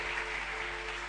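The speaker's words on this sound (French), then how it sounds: "Acclamons Jésus-Christ." A church congregation at a sermon applauding, a dense, even wash of clapping from many hands that fills the whole brief moment.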